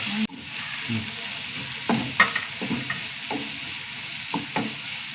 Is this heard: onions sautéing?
yes